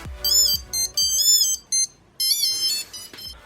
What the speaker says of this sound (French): on va pouvoir faire sonner cet objet